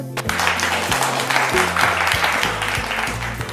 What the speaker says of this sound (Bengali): আর হাততালি হয়ে যাও